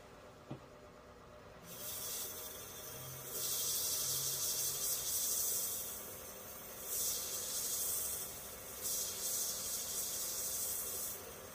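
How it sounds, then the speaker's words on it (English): Hand sanding on dry maple wood in bursts, a bright hissing rasp that starts, pauses and resumes in several long strokes, close up. "Quick, a little bit of sanding here."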